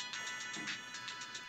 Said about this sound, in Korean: 그때 전화가 울리기 시작해요